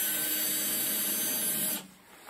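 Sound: removing screws from Growatt lithium battery casing

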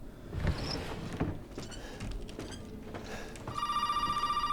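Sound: telephone ringing in Resident Evil 7 video game

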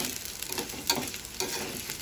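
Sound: green chillies and onions frying in a pan for egg curry

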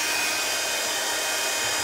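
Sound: heat tool warming back of card

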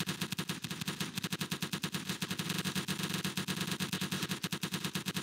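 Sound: gunfire in Roblox D-Day video game

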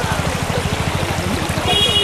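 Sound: stream of water flowing in a forest

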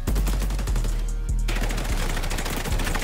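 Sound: gunfire in video game XDefiant gun game mode

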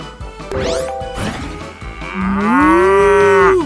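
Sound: robot toy dog imitating cow moo

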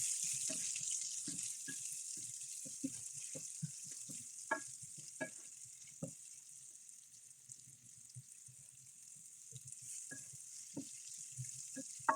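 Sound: onions sautéing in a pan

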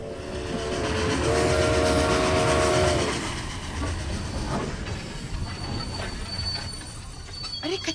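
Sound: train coming to a stop

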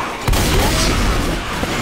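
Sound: explosion in video game Left 4 Dead 2

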